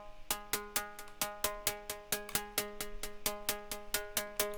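Solo synth percussion for a techno track, a steady run of sharp metallic hits with ringing tones, each echoed by a ping-pong delay that repeats it in a quick bouncing rhythm, loud and alone with no voices.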